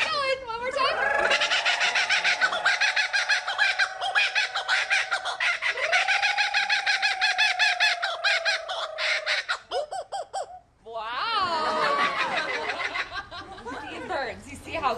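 A laughing kookaburra calls in long, loud, rolling cackles with dense rapid trills, pausing briefly before bursting into another raucous laughing chorus nearby; a person speaks.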